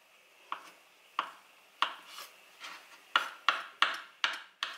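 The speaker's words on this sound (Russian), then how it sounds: "Берем теперь 2 яйца и мелко тоже режем их мелким кубиком." A knife dices two boiled eggs into small cubes on a cutting board, giving about ten crisp, evenly spaced taps that quicken toward the end, close and fairly quiet with no talking.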